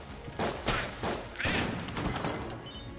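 Gunfire in Enter The Gungeon comes as a run of rapid, punchy shots in short clustered bursts, fairly loud against a busy game background.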